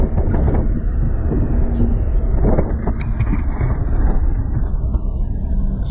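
A Suzuki Jimny Wild Wind JA22 rumbles steadily from inside the cab as it drives over bumps and rough ground, with constant road and wind noise and a few faint knocks.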